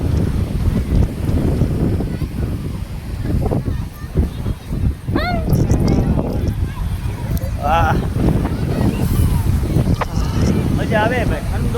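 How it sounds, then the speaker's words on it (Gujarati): Strong cold wind on the seashore at Porbandar buffets the microphone with heavy, gusting rumble throughout, while people talk and exclaim over it. "ઠંડો પવન આવે કોઈ જોરદાર."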